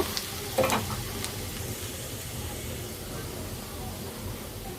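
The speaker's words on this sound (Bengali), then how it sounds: "দেওয়ার পরে এই ফুটান্ত তেলটা এখন এটার মধ্যে ঢেলে দিব" Hot oil is poured over spices including star anise and cinnamon for chili oil, giving a brief splash followed by a steady, even sizzle that continues to the end.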